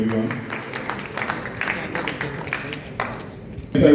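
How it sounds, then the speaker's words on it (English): Scattered applause rises at an awards ceremony honouring judicial achievers, with uneven claps under a voice, and a louder burst of sound arrives right at the end. "big round of applause for everyone."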